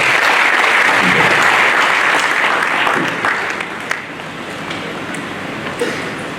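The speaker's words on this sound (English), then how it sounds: "Please a round of applause." Loud, dense applause from a conference audience for the Speaker of the Enugu State House of Assembly, strongest at first and then thinning into scattered claps with a few sharp individual hits.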